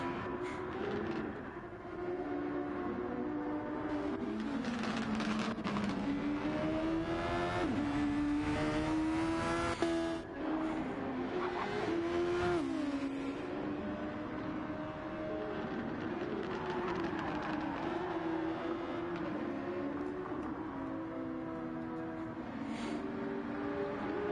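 Race cars in Gran Turismo 7 on the Red Bull Ring roar continuously for the whole stretch, their engine notes rising and falling through gear changes as cars pass one another.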